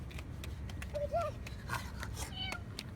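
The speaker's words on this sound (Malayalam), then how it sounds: "ഇവിടെ പൂച്ച." A cat meows a couple of times at a quiet, moderate distance, with soft household background noise and no other clear sounds.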